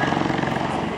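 Eurocopter EC 135 T2 helicopter, German-built, with Turbomeca or Pratt & Whitney turbine engines, at an air show, giving a steady loud rotor and turbine roar that fills the whole second with no break.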